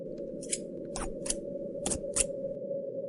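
Sharp scissors snip through a skirt's fabric in a handful of distinct, close cuts spaced irregularly over a faint steady background hum, with no talking.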